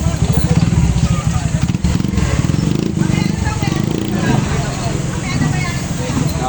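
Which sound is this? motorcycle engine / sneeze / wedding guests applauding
motorcycle engine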